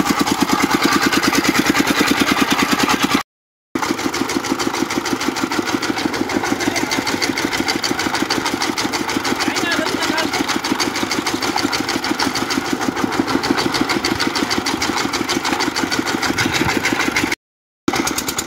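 A rice threshing machine's engine runs steadily and close by, a continuous rapid chugging with a mid-pitched mechanical rattle, broken by two brief silent gaps.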